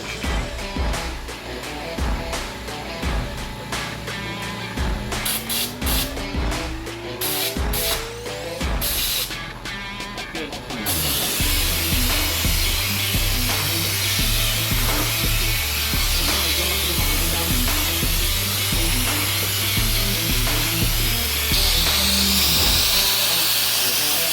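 An Ingco air washing gun spraying water onto a dirty car, first as a sputtering, hissing burst with pulsing bursts, then settling into a steady loud hiss over a rhythmic mechanical chug.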